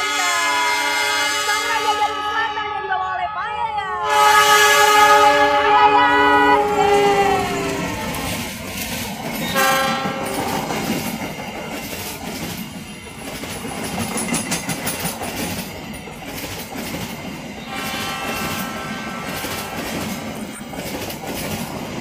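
Horns of the Agro Wilis express train blare in several long, loud blasts, with overlapping tones, over the rumble and clatter of the train moving at speed.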